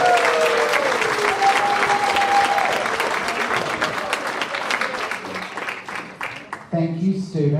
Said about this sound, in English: let's have another round of applause for our new National Music Honor Society members